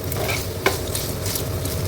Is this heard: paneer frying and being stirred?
yes